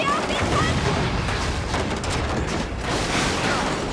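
Missile explosions in the video game Resident Evil 6 boom continuously as a dense, loud barrage of blasts and rumbling, with a player talking over the game sound.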